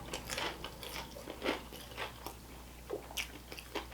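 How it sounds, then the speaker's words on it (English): Someone eats Popeyes and KFC fried food during a big eating challenge, with close, quiet crunchy bites and chewing arriving in irregular bursts over a low steady hum, with no talking. "Chewing and swallowing."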